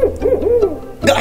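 A single owl gives a clear, loud hoot with a wavering, rising and falling pitch, close up and alone, ending in a brief second call.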